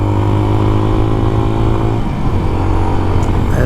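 A 2024 CFMOTO Papio SS 126cc four-stroke single-cylinder mini bike runs steadily, a loud close engine drone with a slight dip and rise partway through, heard alone.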